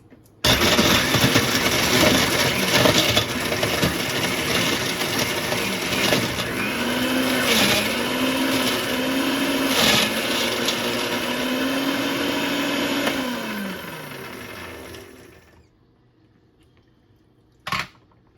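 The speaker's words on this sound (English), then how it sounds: "So I'm going to go ahead and chop up this ice" An electric blender chopping ice for a chocolate Herbalife shake roars loudly, its motor pitch rising and dipping as the ice breaks up, then winds down and stops, followed by a brief click.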